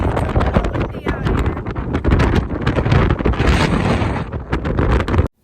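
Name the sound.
strong wind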